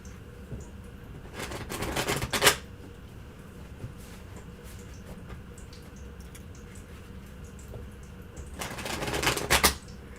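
Tarot cards are shuffled in two brisk riffling bursts, one early and one near the end, separated by a quiet stretch of faint room noise.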